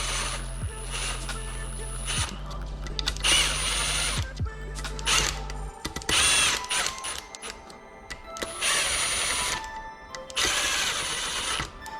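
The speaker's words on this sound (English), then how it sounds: "And we'll tighten these up just gently with the impact gun" Impact gun gently tightening top end bolts on a Yamaha YFZ450R engine, several short loud buzzing bursts separated by pauses, with clicks and handling noises close up.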